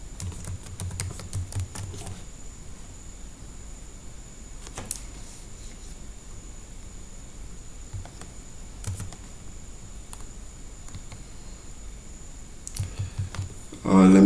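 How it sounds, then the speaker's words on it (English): Faint, sparse clicks of typing on a computer keyboard while entering a word, a few scattered keystrokes over a low steady room hum with no talking. "Let me type it in full."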